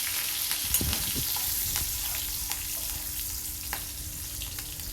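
Green chilies and cumin sauté in oil over low heat, giving a continuous close sizzle with scattered pops and the occasional scrape of stirring.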